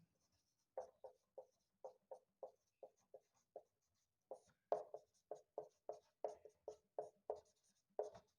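Chalk or pen writing out a definition on a board during a college maths lecture, a series of short scratchy strokes in quick uneven bursts, close and clear with no talk.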